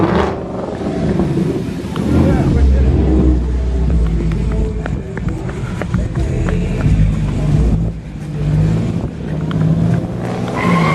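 A car doing a burnout at a large outdoor car meet in Charlotte, its engine revving hard and roaring loud and continuously with rumble and tire squeal, while a crowd shouts in the background.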